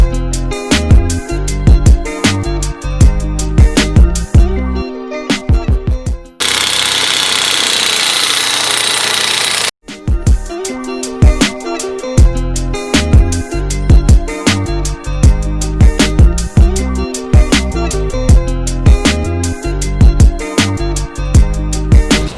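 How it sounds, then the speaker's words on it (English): An impact wrench hammers loudly and rhythmically at the through bolt on a 2019 Acura RDX steering knuckle, with bursts of rattling blows broken by a short steady hiss before the hammering resumes. "We're gonna go ahead and take that bolt off."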